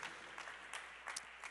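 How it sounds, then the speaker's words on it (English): A church congregation claps hands together during a service, a quiet, brief patter of several clusters of claps spread across the room. "Clap our hands to the Lord for his word."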